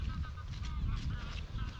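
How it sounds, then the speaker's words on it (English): A big flock of geese passes overhead in wild Scottish countryside, honking in a rapid overlapping chorus of calls over steady low wind rumble, with no talking. "Look, here's some geese coming over now."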